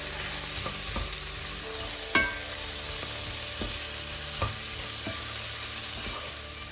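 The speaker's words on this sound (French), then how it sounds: "Vers la fin de la cuisson, j'ajoute l'oignon rose et je mélange bien." Pink onion stirred into Sichuan green beans frying in a hot pan, a constant loud sizzle with scattered scraping knocks of a utensil against the pan, close and without voices.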